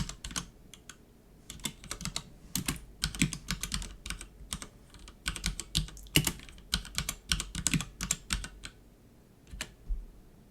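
Commands being typed on a computer keyboard while setting up a PC build, with irregular bursts of crisp key clicks and louder enter-key strikes, close and fairly quiet, without any talk.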